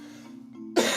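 A single sharp, loud cough from a person close by bursts out near the end, following a stretch of quiet low room hum.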